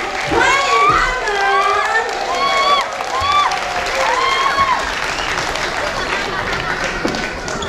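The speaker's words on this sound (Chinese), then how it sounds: "我们用很用力的掌声来欢迎他们。" A church Christmas event audience breaks into sustained clapping to welcome Maori student performers from Auckland, loud and close, with excited voices and children calling out over the applause.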